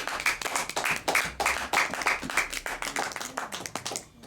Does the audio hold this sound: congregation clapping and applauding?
yes